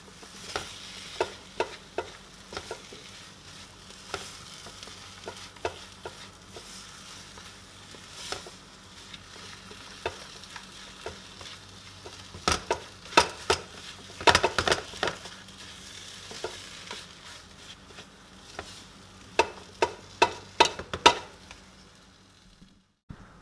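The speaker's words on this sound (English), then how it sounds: "keep mixing until the sugar dissolves" A spoon scrapes and clicks steadily against a bowl as sugar is stirred into a Guyanese blackeye cake batter, a close run of sharp taps and scrapes with no talking.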